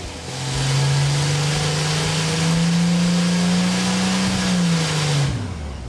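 A car engine on a dynamometer pulls through a full power sweep, its loud, steady drone climbing gradually in pitch for about five seconds before dropping away at the end, with no talking.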